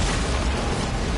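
Fleet cannon fire erupting in a video game battle, a dense, continuous roar of overlapping explosions and booms that stays loud and steady throughout without a break.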